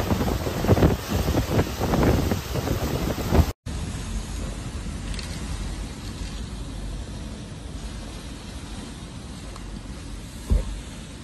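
Wind and rain from Tropical Storm Ian lash Key West, gusty roaring buffets with rumbling wind noise across the microphone, briefly cut off, then a steadier hiss of wind with one sharp thump near the end.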